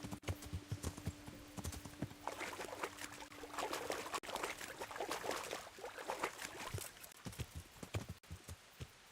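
Rapid clip-clop of horse hooves at a quick pace in the video game Kingdom Come: Deliverance, loud and close, with a faint trickling sound in the background and a brief low hum early on.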